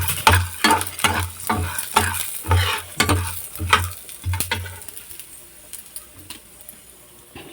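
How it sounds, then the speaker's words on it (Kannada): Chana dal roasting dry in a pan while a spoon stirs it in quick repeated scrapes, with a light crackle beneath, for making vangibath powder. "ಇದೇ ಬಾಣಲಿಗೆ ಇವಾಗ ಕಡಲೆಬೇಳೆ ಹಾಕ್ತಾಯಿದ್ದೀನಿ. ಒಂದು 5 ಸೆಕೆಂಡು ಈ ಥರ ಒಂದು ಸ್ವಲ್ಪ ಇದು ಹುರ್ಕೊಂಡ್ರೆ ಸಾಕು."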